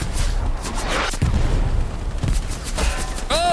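Distant booms and crackling gunfire in the WWII shooter Hell Let Loose, with a continuous battlefield rumble punctuated by several dull thuds, and a rising whine near the end.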